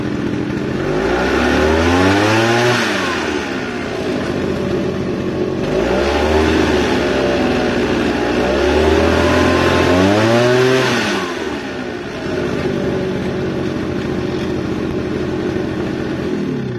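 A secondhand Shindaiwa small two-stroke engine runs and is revved repeatedly, its pitch rising and falling in several loud, close sweeps over a steady idle, alone without voices.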